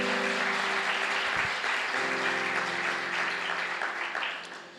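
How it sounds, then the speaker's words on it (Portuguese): Congregation in a church clapping loudly for Jesus, a dense continuous applause at close range, with a low sustained instrumental tone underneath that fades toward the end. "Diga amém e aplauda ao Senhor Jesus bem forte."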